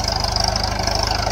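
A tractor engine idles close by during night sowing on a farm, a steady throbbing low chug with even, rapid pulses and no voices.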